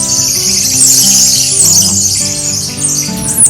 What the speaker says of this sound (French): Les singes titis les gars.